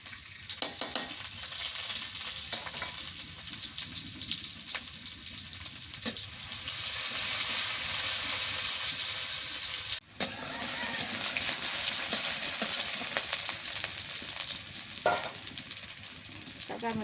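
Onion sizzling steadily in a hot pan while shrimp and bottle gourd are being cooked, a continuous crackling hiss with occasional stirring clatter and faint background voices.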